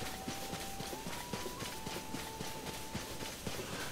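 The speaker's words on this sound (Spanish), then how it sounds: "Ahí hay caballos salvajes." Wild horses gallop in the video game Zelda: Tears of the Kingdom, their hooves thudding in a quick, rhythmic clip-clop beneath a faint sustained tone and soft background game ambience.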